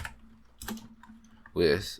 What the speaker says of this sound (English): by going to Windows and typing cmd, and then enter